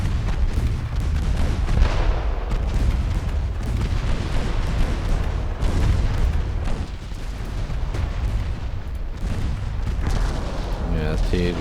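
Naval battle in Ultimate Admiral: Dreadnoughts with torpedo explosions and ship gunfire as a dense, continuous rumble of booms and blasts. A voice talks over it throughout.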